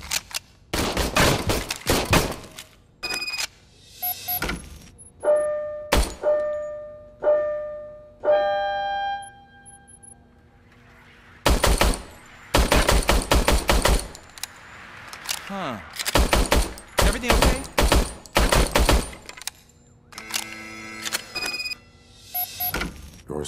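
An old, poorly working service gun fired in the video game RoboCop: Rogue City, heard as repeated sharp bursts of shots with mechanical clicks and rattles between them, loud and close, with pauses and some talk.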